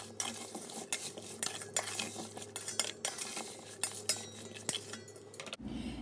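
Lemons are stirred with salt in a big metal vessel for pickle, giving close, steady scraping and clinking strokes of a spoon against the pot, with no talk.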